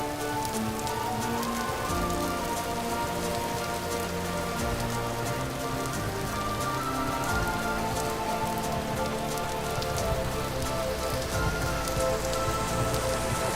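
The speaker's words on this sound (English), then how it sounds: "And it's raining. Because of course it's going to rain" Steady rain falling in a game world, a dense continuous patter on surfaces at constant level with no voices over it.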